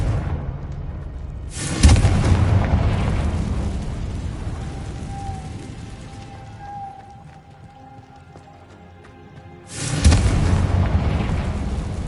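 Two Confringo spell blasts in the Hogwarts Legacy video game, each a loud sudden boom with a rumbling tail, spaced about eight seconds apart with quieter ambience between.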